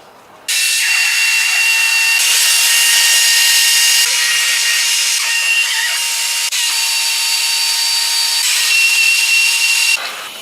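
A power tool, likely an impact or drill driver, runs loudly and continuously for about ten seconds with a harsh, buzzing whine as bolts come off a Chevy Chevelle during a restoration.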